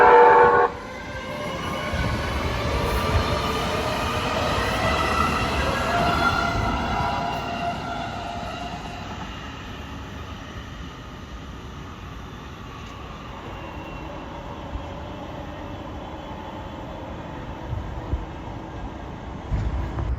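An LA Metro A Line light rail train pulls away from a station during pre-revenue testing, with loud tonal horn-like notes at the start giving way to a steady rolling rumble that gradually eases off, no voices.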